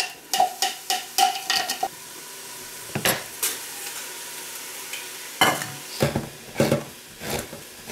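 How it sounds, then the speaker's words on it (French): Onions frying in a pan for vegetarian patties give a steady sizzle, broken by sharp, quick scrapes and clacks of a utensil stirring them, several bunched early and more near the end, with no talk. "j'ai mes oignons qui sont en train de cuire"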